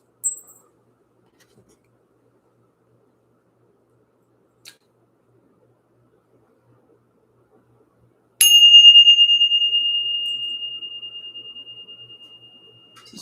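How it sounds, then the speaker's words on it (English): A bell is struck once to clear energy, giving a single bright ring that sustains and slowly fades over several seconds in an otherwise quiet room, with a faint earlier tap. "Let's ring the bell."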